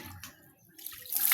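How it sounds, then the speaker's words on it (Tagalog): Water poured over a person bathing outdoors in a rural setting, splashing faintly at first and swelling into a louder, hissing pour near the end. "Hugasan mo ulit ng tubig. Yung katawan mo, Ace. Magbuhos ka ulit"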